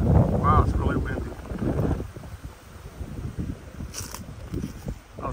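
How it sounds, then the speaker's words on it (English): Gusty wind at Liberty Lake, Guthrie, Oklahoma buffets the microphone with a low, rushing roar, starting loud and easing slightly, with a person talking over it early on. "Wow, it's really windy."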